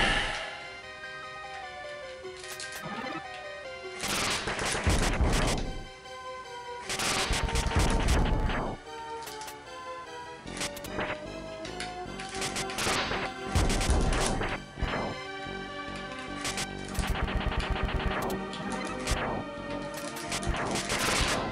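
Walls being smashed apart in Super Ghouls'n Ghosts, loud repeated crashing impacts in bursts over chiptune-style game music, with several heavy clusters of destruction across the stretch.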